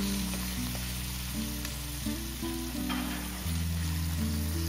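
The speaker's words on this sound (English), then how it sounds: "Stir fry for a minute or two until the fragrance comes out." Garlic and aromatics stir-fried in a hot wok for a spicy sweet potato noodle and pork dish give a bright, continuous sizzle, heard alongside steady background music.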